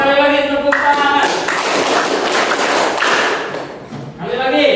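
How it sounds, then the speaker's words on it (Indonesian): Loud, sustained group hand clapping fills most of the span as an Indonesian class claps on cue, with a teacher's voice speaking at the start and the end. "Masih belum kok. Sekali lagi tepuk tangan."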